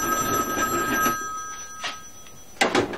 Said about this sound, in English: They would ring the line.